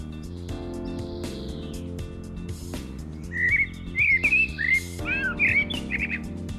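Newly hatched chicks in a nest inside a living green wall, giving bursts of high, thin chirps and squeaks in the second half over a constant tonal hum.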